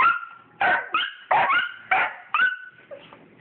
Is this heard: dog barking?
yes